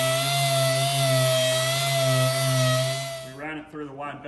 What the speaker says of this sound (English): Through the wide belt sander now